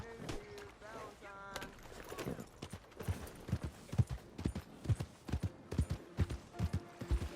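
Horse hooves clip-clop in a steady rhythmic trot in Red Dead Redemption 2, fairly close, with brief voices and music-like tones near the start.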